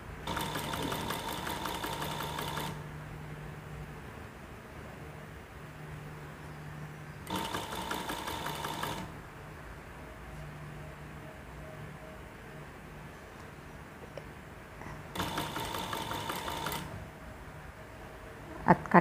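A sewing machine stitches a nightdress in three separate bursts of fast, steady mechanical whirring, each lasting a couple of seconds with quieter pauses between them.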